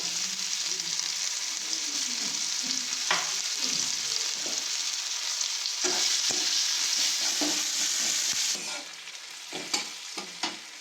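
Onion, garlic and a small dried chili fry in hot oil, a constant close sizzle broken by repeated scraping stirs, the hiss easing near the end.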